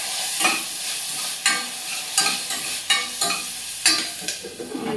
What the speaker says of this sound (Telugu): ఈలోపు ఇవి ఆయిల్లో కొంచెం ఫ్రై అవుతూ ఉంటాయి